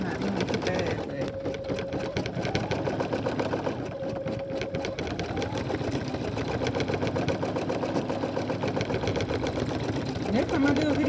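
A Brother embroidery machine stitches a hat clamped in a hoop, its fast needle chatter running steadily and loudly throughout, with a voice talking over the mechanical hum.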